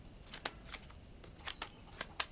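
Playing cards for a poker game in Red Dead Redemption are riffled and shuffled, making a series of quick, soft crisp flutters at an irregular rhythm over a quiet background; no talking.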